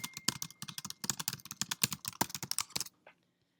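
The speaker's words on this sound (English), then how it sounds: "Say I'm typing a post in here about volcanoes." Rapid, close typing on a computer keyboard as a post is written, a steady patter of key clicks for about three seconds before it stops.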